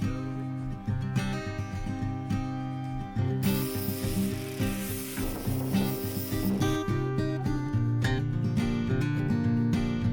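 A steady, loud hiss of an aerosol spray can runs for a few seconds over a droning mechanical hum, starting and stopping abruptly, while prepping a school bus roof deck.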